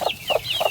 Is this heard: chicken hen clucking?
yes